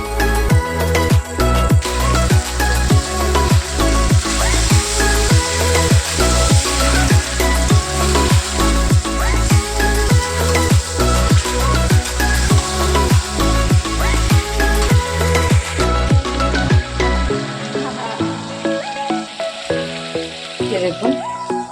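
Chicken pieces hit a pan of browned chopped onion and fry, a loud close sizzle under a steady regular beat of music, the frying hiss continuing throughout before the beat drops out near the end.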